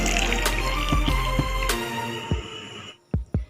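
Custard powder solution is poured into a pan of milk, giving a liquid trickling and splashing sound with a few sharp clinks of utensils, then brief drips near the end as the pour stops.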